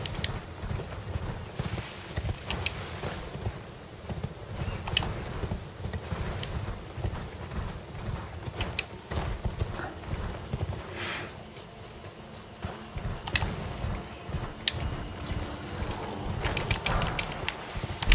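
A horse gallops in the video game Elden Ring, with rapid, continuous hoofbeat clip-clops at moderate volume, running steadily with no talk over it.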